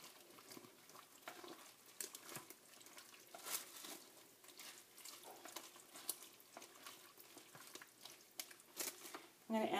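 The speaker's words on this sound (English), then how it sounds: "I'm just going to stir all of this up in here" A spoon scraping and swirling through bison chili in a crockpot, faint and irregular, with soft wet clatters and a louder knock near the end.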